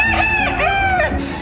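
Rooster crowing at an agricultural show among poultry pens, a loud close crow with a drawn-out, wavering cry and a few clucks from nearby fowl, heard alone without talk.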